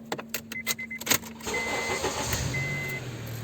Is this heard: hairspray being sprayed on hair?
no